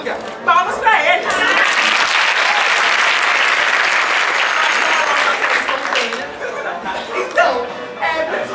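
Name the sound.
theatre audience applause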